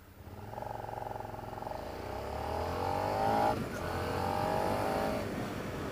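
A 2016 Suzuki SV650 motorcycle accelerates hard off the line, its engine note climbing steadily through the gears with a brief shift dip midway, loud and close with wind rush underneath.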